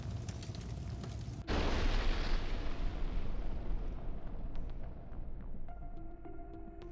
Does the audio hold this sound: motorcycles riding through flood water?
no